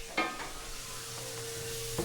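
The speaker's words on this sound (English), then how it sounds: "got our bacon grease in our cast iron over here and put our diced onions in it" Diced onions frying in bacon grease in a cast iron pan give a steady close sizzle, broken by a couple of sharp utensil knocks against the pan.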